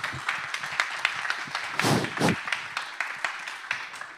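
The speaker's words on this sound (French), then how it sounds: "On peut les applaudir." An audience claps in warm applause for a French interview with a mathematician, a moderate scattered patter of hands with a louder burst in the middle, heard from within the room.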